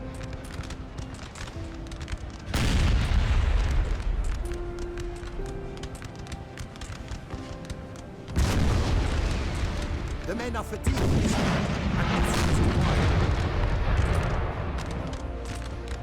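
Cannon artillery fires in the Napoleonic-era strategy game Napoleon Total War, heavy booming blasts rumbling in at intervals with sustained battle noise between them, while a voice speaks briefly.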